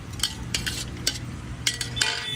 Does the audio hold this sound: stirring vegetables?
yes